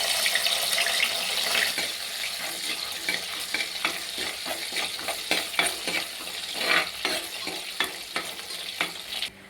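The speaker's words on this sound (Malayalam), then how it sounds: "അങ്ങനെ എണ്ണ ചൂടായി. അപ്പോൾ നമുക്ക് ഇഞ്ചി ഇട്ട് കൊടുക്കാം." Ginger frying in hot coconut oil, with a busy crackling sizzle and repeated stirring scrapes in an uneven rhythm, close and fairly loud, no voices.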